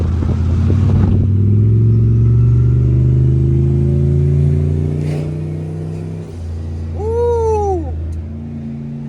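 A 700HP turbocharged junkyard truck engine, on about 5 pounds of boost, hauls a flatbed carrying a BMW, a loud, close, steady low drone that slowly rises in pitch, with a person whooping near the end.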